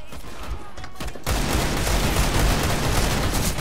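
Dense, continuous gunfire from CS:GO, the Counter-Strike: Global Offensive shooter, bursts in loudly after a second of near-quiet and keeps up a steady, rapid crackle to the end.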